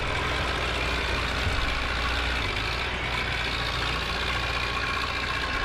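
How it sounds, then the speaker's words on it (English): Old Zetor tractor engine idling in Farming Simulator 15, a steady, loud low rumble with constant broadband engine noise that holds unchanged throughout, with no talking. "This is just such a funky old tractor in it."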